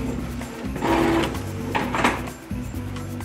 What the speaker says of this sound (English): I put printing in the fast forward mode, but usually it takes about 2 to 3 minutes in the real time to print